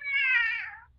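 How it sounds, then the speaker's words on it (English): A house cat gives a single drawn-out meow, clear and close, rising slightly then fading away over about a second against a quiet background. "we have a cat that really wants to be in on the discussion"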